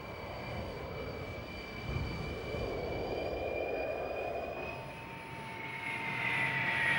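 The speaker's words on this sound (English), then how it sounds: "The investigators board a Boeing 727 to trace a course similar to the one taken by" Boeing 727 jet airliner in flight, heard as a steady broadband engine roar with a faint high whine, continuous and fairly loud throughout with no talking.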